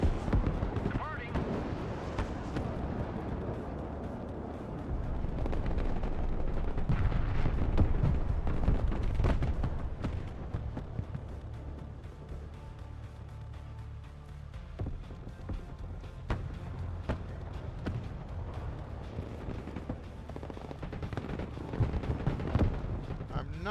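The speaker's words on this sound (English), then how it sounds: "I'm not sure that artillery actually did anything of any real note." Artillery fire in the real-time strategy game Broken Arrow, a rumbling run of distant booms and thuds mixed with scattered gunfire, with a voice talking over it.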